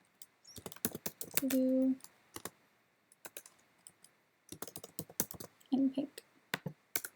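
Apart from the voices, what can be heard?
typing on a computer keyboard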